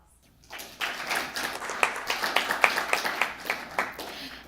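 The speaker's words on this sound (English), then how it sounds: "Let's thank them all with our applause." A small audience at a Unity of Wichita spiritual gathering breaks into applause after a brief quiet moment, loose individual claps ringing out close by and continuing unevenly for a few seconds.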